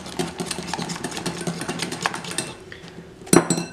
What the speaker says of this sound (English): you just keep on adding oil and keep mixing